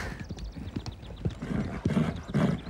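Horses trot with a steady clip-clop of hooves, close and fairly loud, the beats coming in quick uneven clusters throughout.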